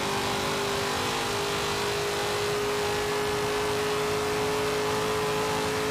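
Drag-tuned AMC Gremlin in Forza Horizon 3 pulls hard, its engine holding a sustained, even whirring drone at moderate volume with no voices over it.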